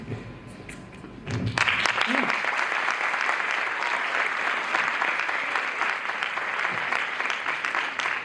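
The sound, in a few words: audience round of applause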